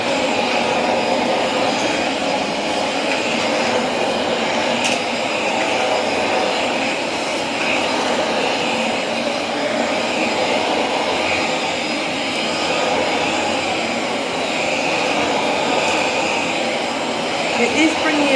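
A vacuum cleaner runs loud and steady as it passes over a filthy rug, pulling up hair, its constant roaring drone filling the whole stretch without breaks.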